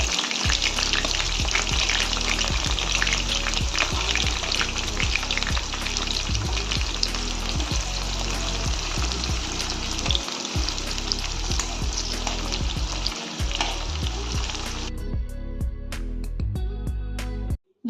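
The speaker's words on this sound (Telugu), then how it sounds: "అలాగే మనం బాగా క్లీన్ చేసుకున్న ఎండ్రాయిల్ కూడా ఆయిల్ కాగానే అందులో వేసేద్దాం" Dried prawns frying in hot oil in a pan, giving a dense, continuous crackling sizzle with a few spoon scrapes and taps, until it cuts to near quiet at the end.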